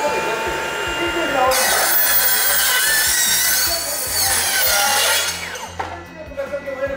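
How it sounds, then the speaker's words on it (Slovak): Hilti cordless metal circular saw making a cold cut through a metal profile, a loud high whining cut lasting several seconds before the blade winds down, with some speech in the background. "Ak by si potreboval na rezanie profilov niečo rýchlejšie, efektívnejšie a hlavne so studeným rezom, tak je tu vynikajúca kotúčová píla na kov."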